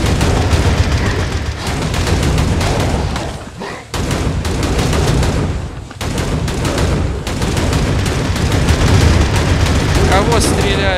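Dense, loud gunfire in the gory action game Hellbound, near-continuous rapid shots and blasts with only brief pauses, while a player talks over the shooting.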